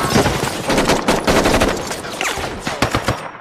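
A burst of heavy-caliber automatic gunfire in an action film about ex-soldier robbers, loud rapid cracks fired in quick succession with a dense, echoing rattle.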